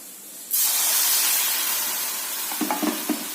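Battered banana pieces drop into hot oil for pazham pori, bursting into a loud, steady broadband sizzle that holds throughout, with a few soft clinks near the end.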